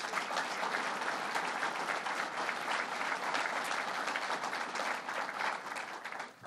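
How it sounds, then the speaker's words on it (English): Audience at a governor's budget announcement event breaks into steady, dense applause, a full roomful of clapping holding at an even level for several seconds before tapering off at the end. "let's give him a round of applause"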